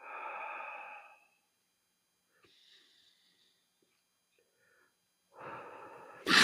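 During yoga practice, a deep, audible breath out rushes close to the ear, followed by near silence and then another strong, breathy exhale.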